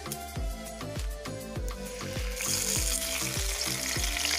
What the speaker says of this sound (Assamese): এতিয়া মই শুকান জলকীয়া দিছোঁ এটা, তেজপাত 2টা